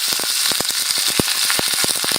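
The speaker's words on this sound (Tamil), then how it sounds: "எண்ணெய் காஞ்சிருச்சு, கடுகு போட்டுக்கிறேன்." Mustard seeds and curry leaves hit hot oil while tempering for peanut chutney, giving a close, steady, dense crackle of sharp irregular pops and spits that carries on unbroken with no voices.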